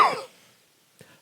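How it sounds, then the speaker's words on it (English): A single burst of coughing from a person, loud and close at the start and quickly fading, followed by a faint short throat sound a moment later. "Let me finish coughing."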